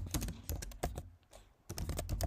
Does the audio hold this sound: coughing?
no